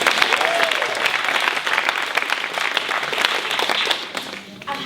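An improv comedy audience breaks into lively applause with some cheering and crowd noise, strong at first and tapering off near the end.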